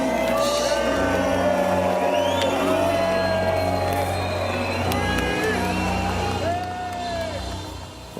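A large concert crowd in Leipzig shouts, whistles and jeers in a dense roar during a tribute to Ukraine, with loud voices rising out of the mass noise before it eases slightly at the end.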